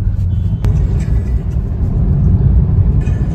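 A car running on CNG moves through congested ghat traffic, with a steady low engine rumble and road noise close by and a brief sharp click early on.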